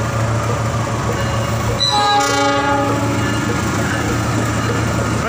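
A long, loud train horn blasts for a second or so, signalling a train's departure, over a steady, rumbling locomotive engine drone.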